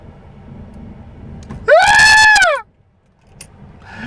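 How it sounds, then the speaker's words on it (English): Screaming goat from the film Thor: Love and Thunder, one loud, harsh, wavering scream lasting under a second, rising then falling in pitch, standing out against quiet background noise. "Remember the screaming, the meme goats thing?"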